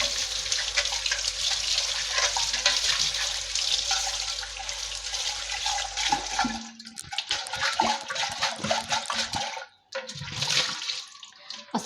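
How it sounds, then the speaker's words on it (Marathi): Water runs and splashes steadily while a clay water pot is washed on the outside, a continuous close gush that breaks into choppier splashing and scrubbing partway through. "तर आता हा माठ आपण बाहेरून स्वच्छ धुवून घेणार आहोत"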